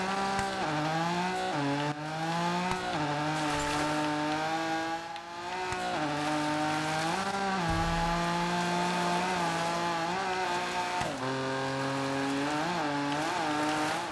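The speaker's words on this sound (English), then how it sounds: "my car sounds like a strimmer again" Buzzy, high-revving car engine from the racing video game Gravel with a thin, strimmer-like whine, holding steady pitches that shift up and down with gear changes across the whole stretch, loud and continuous.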